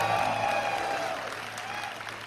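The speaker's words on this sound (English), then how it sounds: "If you like Spectral Knight, applaud now." An audience applauds for Spectral Knight in a Hearthstone card vote, a steady dense wash of clapping and crowd noise that holds throughout and eases slightly toward the end.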